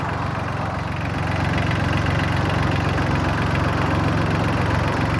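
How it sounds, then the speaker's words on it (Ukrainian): A 24-horsepower Solis 26 mini diesel tractor engine runs steadily at a low idle, a continuous chugging drone with no voices. "Трактор на 24 кінських сили."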